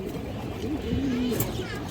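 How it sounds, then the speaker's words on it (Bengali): A red male pigeon coos at a busy pigeon market, with a low, soft coo rising briefly near the middle under steady crowd chatter and people talking. "লাল মাকড়া বাগান নর কবুতর।"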